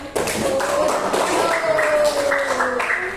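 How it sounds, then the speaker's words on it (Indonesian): Schoolchildren in a primary classroom clap together in a short, dense burst of applause that fills the room, with some voices and a whistle-like tone mixed in. "silakan tepuk tangan"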